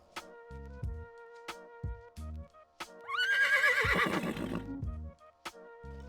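A horse in World of Warcraft gives a loud, drawn-out whinny that rises and then trails off, set among steady game music tones and soft rhythmic thumps, with no voices.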